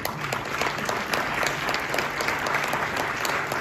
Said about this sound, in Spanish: Recibimos entonces ahí sí con un aplauso general a todo el panel